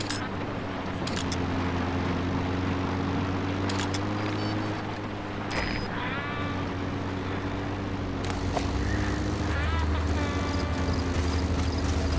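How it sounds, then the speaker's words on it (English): An enemy helicopter gunship in Metal Gear Solid V: The Phantom Pain, a steady droning engine and rotor hum that holds throughout, with game effects and brief chirps over it. "That's an enemy gunship."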